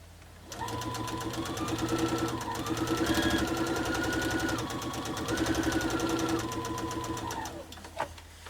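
A sewing machine stitches quilt block pieces together in one continuous, steady run of rapid mechanical chatter and motor hum that lasts about seven seconds before stopping, with no talking.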